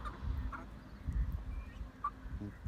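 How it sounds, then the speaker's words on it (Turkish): Turkeys and village chickens kept among mixed breeds give scattered clucks and short calls, fairly close but low in level, with a steady low background rumble. "Hintlerin içinde köy tavuğu da var arkadaşlar"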